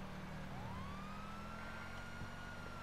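A police car siren in GTA Online wails in a rising, sweeping tone over a low engine rumble, quiet and somewhat distant.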